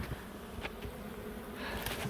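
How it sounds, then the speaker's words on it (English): Dense, steady buzzing of many honey bees close by at a hive, a continuous hum with individual insects swelling louder as they pass near. "A lot of bees gathering up over there"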